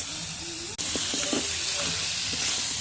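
Crab pieces fry and get stirred in a pan, a steady close hiss and sizzle with a brief break and a few soft scraping knocks from the stirring.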